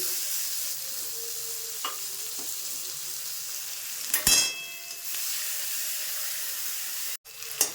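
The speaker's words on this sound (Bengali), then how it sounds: "পেঁয়াজটা এখানে ভাজা ভাজা হতে থাক, একটু লাল লাল ভাজা হলে" Thinly sliced onions fry in a pan with a steady, close hiss and sizzle, broken by a few utensil clicks and a brief clatter partway through. No one speaks.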